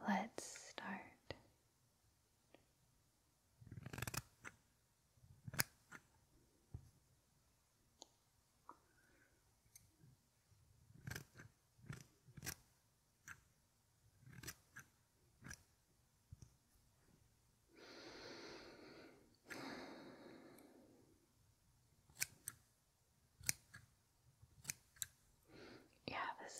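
Real hair snipped with scissors during a wet haircut, sounding as crisp, close, isolated clicks scattered irregularly through quiet, with soft whispering and breathing in places.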